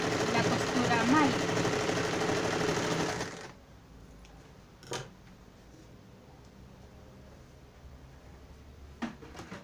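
Sewing machine running steadily as it stitches a seam on a pair of trousers, loud and continuous for about three seconds before stopping, followed by quiet room sound and a few faint knocks.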